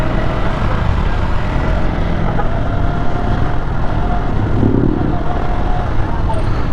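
A group of GPX motorcycles ride together at night, a steady, dense roar of engines and road noise that stays loud and constant throughout.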